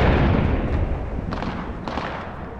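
Gunfire in a video game: a loud, dense rumble of blasts with a few sharper bursts standing out, packed into a short span with no pauses.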